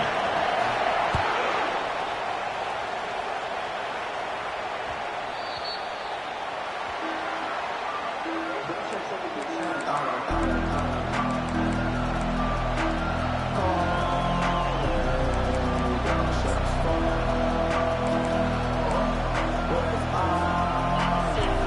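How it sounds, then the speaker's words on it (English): A large football stadium crowd roars in a sustained wash of noise around a kickoff, later joined by loud music and rhythmic thumping, with an announcer speaking over it. "This crowd bringing the energy and noise early."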